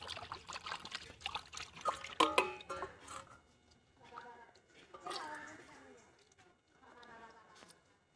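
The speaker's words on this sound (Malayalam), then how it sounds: "കഴുകാൻ വേണ്ടി വെള്ളം ഒഴിക്കുക" Water pours and trickles in uneven bursts with splashing as anchovies are washed, while voices talk over it at times.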